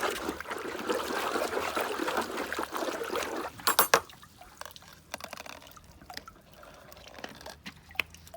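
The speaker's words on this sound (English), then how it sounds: "Just give it a good stir." A milky pond treatment mixture is stirred in a bucket of pond water, soft sloshing and trickling at first, then quieter drips and small splashes, close and fairly faint with no talking.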